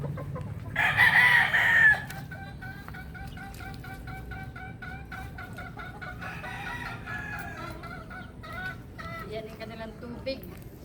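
A batch of young chicks peeps in repeated high, thin calls, with a louder bird call bursting out near the start.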